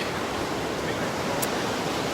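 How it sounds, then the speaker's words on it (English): Ocean waves breaking on the beach at Pawleys Island on a foggy winter morning, a dense continuous roar of surf with some wind rush, steady and close with no talk. "Max Speedy, you got waves out here, buddy. Some pretty darn good waves"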